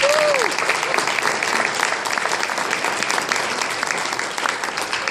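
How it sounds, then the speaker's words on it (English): Guests at a wedding reception give the bride's and groom's parents a big, even round of applause that roars steadily throughout, with a brief whistle at the start. "How about a big round of applause?"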